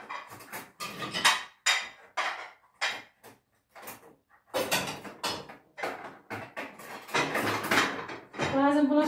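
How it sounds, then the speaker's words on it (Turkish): Dishes and cutlery clatter and clink in quick irregular bursts as they are loaded into a home dishwasher, with close, loud rattles under Turkish conversation throughout. "Bazen bulaşık makinesini iyileştiriyorum arkadaşlar."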